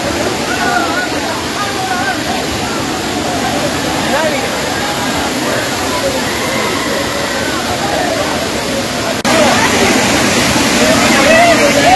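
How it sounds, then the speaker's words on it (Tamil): Tada waterfalls roar as a dense, continuous rush of falling water heard up close, loud and unbroken, with faint voices under the torrent. "இந்த ஃபால்ஸ் தான் செம்மையா இருக்கு"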